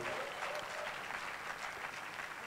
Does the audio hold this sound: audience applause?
yes